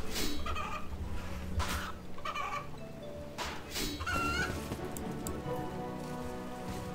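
Game birds in RuneScape 3 cluck in a few short, scattered calls over a steady ambient game background that continues after the calls stop.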